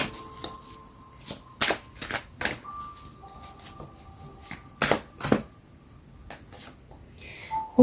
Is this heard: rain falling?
no